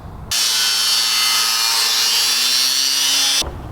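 A homemade scraper rasps steadily along the steel frame rails of a Tesla-powered Vanagon under battery box assembly, one continuous loud gritty scrape lasting about three seconds, close up with no talking.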